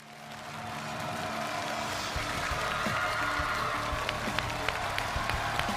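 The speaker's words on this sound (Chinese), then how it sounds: "来，掌声有请奶奶。" A studio audience at a televised Chinese challenge show applauds to welcome a grandmother onto the stage, a broad, moderate wash of clapping that swells and holds steady.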